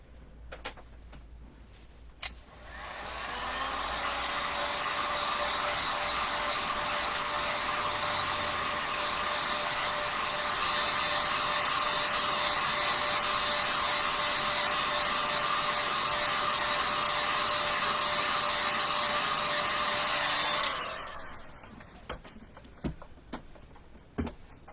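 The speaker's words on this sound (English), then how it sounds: "I'm going to hit this with the dryer." A hair dryer blows continuously for about eighteen seconds on a snowman craft, loud and steady after a click on, then switched off, with faint ticking and handling noises around it.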